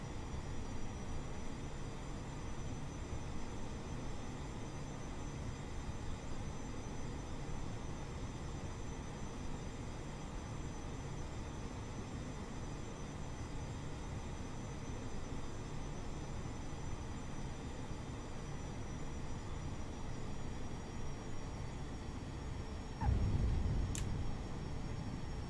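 Simulated airplane landing at Magdeburg in a flight simulator game, a steady droning engine hum throughout with a short thump near the end.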